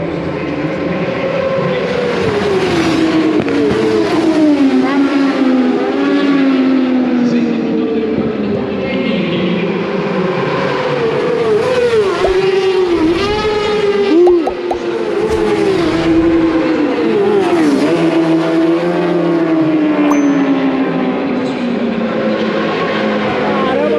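Racing superbikes pass one after another at the Interlagos circuit in Brazil, engines screaming loudly and continuously with rising and falling pitch sweeps as each machine goes by close at hand.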